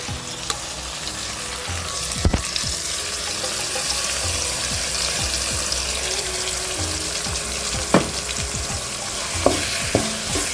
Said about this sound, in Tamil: நல்லா பச்சை வாசமாக வதக்கிங்க